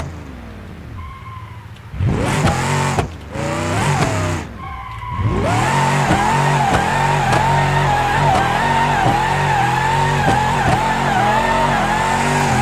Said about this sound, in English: Concentrating on drifting.